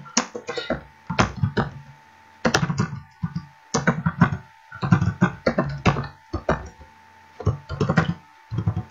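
Bursts of rapid key clatter on a computer keyboard while C code for an ATM banking program is typed, loud and close, in irregular clusters separated by brief pauses.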